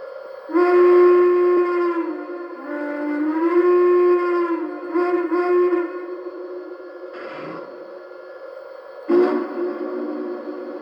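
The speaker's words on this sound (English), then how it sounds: "And this is whistle number 5." Whistle number five of a Union Pacific 844 model steam locomotive sounds a series of loud close chime blasts with wavering pitch: a long opening toot, a longer blast, several short hoots, then one final blast near the end. No one speaks.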